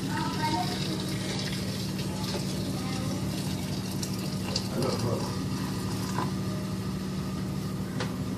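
Hot water pours steadily into a container while iced lemon tea is being made at home, a continuous close gurgling splash with faint background hum.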